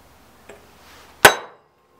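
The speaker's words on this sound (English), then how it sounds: "I'm going to put a center punch mark right there where we're going to drill that hole" A hammer drives a center punch into metal to mark a drilling spot for a forge burner: a light tap, then one sharp, loud metallic clang that rings briefly, close by.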